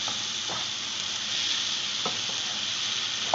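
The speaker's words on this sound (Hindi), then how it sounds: "अब मैं ये भिंडियाँ डाल दूँगी।" Okra sizzling in hot oil in a home kitchen pan, a steady close frying hiss with a few sharp spits and pops scattered through.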